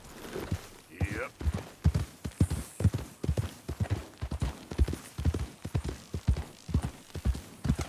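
Rhythmic clip-clop of horse hooves walking steadily at close range in the video game Red Dead Redemption 2, with a brief whinny early on and faint background ambience.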